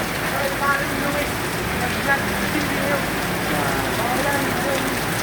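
Dense typhoon rain hisses steadily on nearby surfaces with a constant loud wash, a few faint voices and small knocks briefly rising under the downpour.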